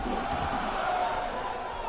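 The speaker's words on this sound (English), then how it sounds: "You can hear the crowd counting along." A wrestling crowd at a tournament show chanting a count along together, a dense, loud roar of many voices that stays steady throughout, mixed with a commentator's talk.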